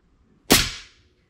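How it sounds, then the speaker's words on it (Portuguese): A 5.5 mm air rifle firing an 18-grain slug gives a single sharp, loud crack at close range, followed by a quick decaying tail. "Vamos começar com o slug de 18. 5 disparos na obreia lá da minha esquerda."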